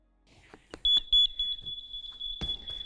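An electronic beeping sound source for beep kickball pulses rapidly and steadily in a high, piercing tone, with thumps and a sharp knock around it in a gym.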